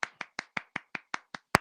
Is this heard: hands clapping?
yes